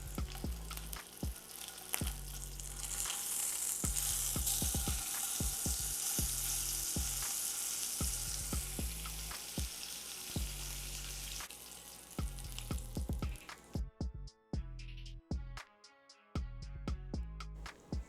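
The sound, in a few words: A5 wagyu steak sizzling in a pan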